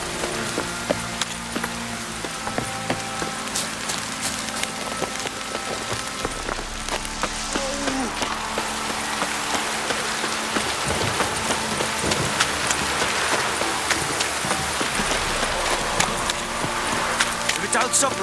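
Steady rain patters on surfaces in The Witcher 3, a continuous soft hiss with scattered drop taps, while voices talk over it and footsteps and occasional thuds mix in.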